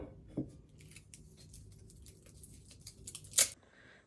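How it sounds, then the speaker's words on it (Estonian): A knife cuts through an onion in a home kitchen, giving a few faint, crisp chopping clicks at irregular intervals, with one sharper cut near the end against a quiet background. "Ma lõikan siis sibulat."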